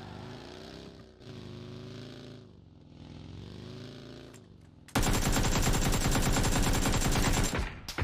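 Rapid automatic gunfire in a video game: a sudden, loud, dense burst of shots lasting about three seconds, following a low engine-like hum.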